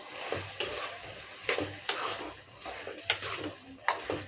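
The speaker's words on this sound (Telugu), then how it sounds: "ఒకసారి మొత్తం కలుపుకుందామండి" A spatula stirs ridge gourd and tomato curry in a pan, with four or five distinct scraping clinks over a soft simmering hiss, close and fairly quiet.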